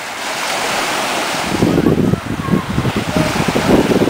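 Surf rolls in and breaks along a beach shore, a steady wash of whitewater with heavier surges in the second half, close and loud with wind buffeting the microphone.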